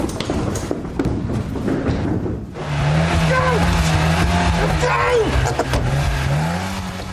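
A Ford Sierra Sapphire pulls away with its engine droning and rising in pitch, loud and close, after a dull thump, with voices and other background noise mixed in.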